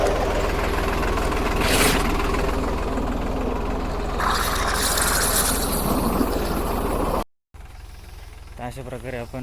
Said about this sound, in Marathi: अशा प्रकारे आपण ट्रॅक्टर स्प्रेअर पंपाची फवारणी करतो